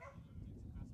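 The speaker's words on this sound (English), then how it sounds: "that was a dog barking." A dog barks at a baseball game, a faint, distant yap or two buried in low crowd murmur and ambient stadium noise.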